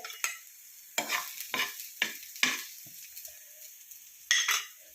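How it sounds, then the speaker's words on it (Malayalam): Chopped apple sautéing in ghee for an apple payasam, with a steady low sizzle broken by several distinct stirring scrapes and utensil knocks against the pan, close by and with no voices. "ആപ്പിൾ ചെറുതായിട്ട് അരിഞ്ഞെടുക്കാം എന്നിട്ട് അതൊന്ന് ഇച്ചിരി നെയ്ക്കകത്ത് വഴറ്റിയെടുക്കുക"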